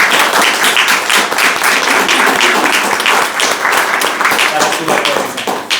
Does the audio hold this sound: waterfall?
no